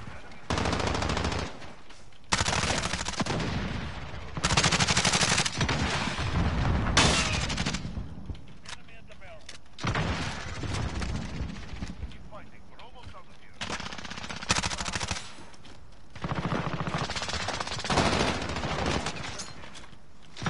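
Call of Duty video game gunfire, with repeated bursts of shots in clusters across the clip, loud and close, plus occasional explosive booms and faint speech.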